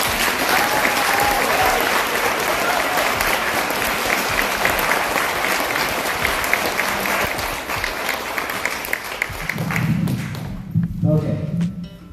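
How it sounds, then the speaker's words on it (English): An elementary school audience gives a big, sustained round of applause for a fifth grade class at their continuation ceremony, loud dense clapping and crowd noise filling the space before a voice cuts in near the end. "And so can we give just a huge round of applause to our fifth grade?"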